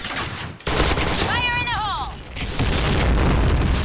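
A grenade explodes amid gunfire in a shooter video game, with dense booms and rapid shots filling the clip and a brief tonal game effect in the middle, heard under voices.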